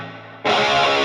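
Electric guitar played through a Line 6 Helix distortion effect, a quieter sustained tone for the first half second, then a loud, dense, saturated distorted chord that rings steadily to the end.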